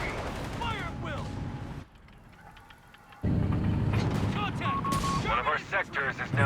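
Machine gun fire from an upgraded P3 vehicle in Company of Heroes 3, rattling in bursts amid mechanical clatter and battle noise, cut off briefly by a quieter stretch before resuming.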